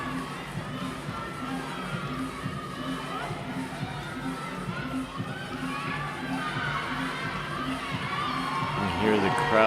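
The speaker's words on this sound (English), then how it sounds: "You hear the crowds going crazy outside." A crowd outside a CrossFit-style fitness competition, the Austrian Throwdown 2024 finals, cheers and shouts continuously in a rolling din that swells slightly toward the end.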